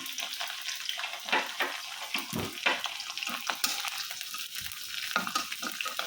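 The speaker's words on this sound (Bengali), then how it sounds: "তো রসুন কুচিটা প্রথমে একটু কালার করে বাইজে নিব" Minced garlic sizzles in a hot pan with steady frying crackle, punctuated by scraping stir strokes and clinks of a spatula, fairly close and moderately quiet.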